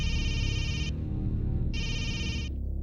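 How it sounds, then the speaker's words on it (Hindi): A telephone rings in two electronic bursts, each close to a second long with a gap between, set over a steady low background rumble of film soundtrack noise. "It's ringing."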